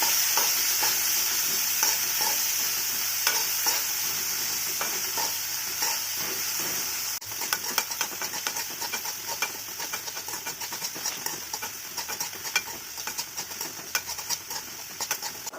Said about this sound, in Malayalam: ഇനി നമുക്കതിലേക്ക് കുറച്ച് ഉപ്പ് ചേർത്ത് നന്നായിട്ട് ഇളക്കാം